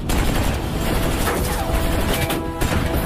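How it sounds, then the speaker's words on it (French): A machine gun fires in an action film battle scene, a loud, dense burst of rapid gunfire with crashes layered over it. "c'est la mitrailleuse qui nous tire dessus!"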